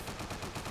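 A dense, muffled rattle of gunfire from the crime game Scarface: The World Is Yours fills this very short moment, steady and fairly quiet, with no talking.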